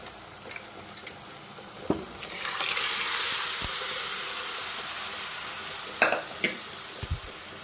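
Mutton pieces dropped into a hot pot of oil for mutton pulusu, giving a burst of sizzling that swells and settles, with a few sharp clinks of a ladle against the pot.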